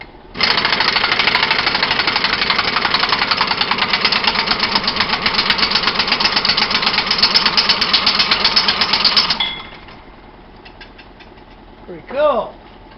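An engine from a teardown is spun up with an air gun, giving a loud, continuous rattling whir for about nine seconds before cutting off, followed by a faint brief sound.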